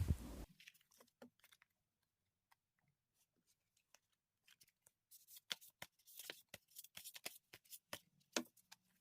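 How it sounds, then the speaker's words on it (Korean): Tarot cards shuffled and drawn by hand, starting with a brief burst and then sparse soft flicks, followed by a rapid run of crisp riffling card snaps. Close and quiet, with no talking. "이번 여러분들을 위한 2022년의 조언 카드도 한번 뽑아볼게요"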